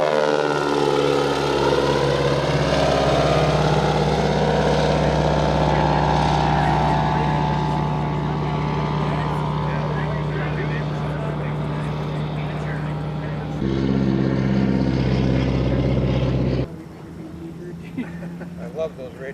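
A radial-engine airplane runs with a steady, loud, droning propeller roar at a small-airfield fly-in, holding strong for most of the stretch before cutting down sharply near the end; people talk faintly beneath it.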